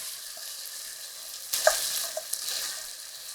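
Ground beef browns in a hot pan for chili, a soft steady sizzle with a few brief stirring scrapes and crackles partway through, close and fairly quiet, with no talking.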